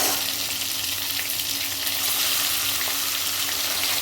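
Brinjal (eggplant) pieces fry in hot oil with a loud, continuous close sizzle that holds steady throughout.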